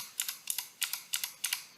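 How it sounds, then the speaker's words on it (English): Computer keyboard keys, the square bracket keys, are pressed in quick crisp clicks, about eleven taps in small uneven clusters, close and clear against a quiet background. "By hitting the right square bracket, I can cycle through the connectors on the non-moving component."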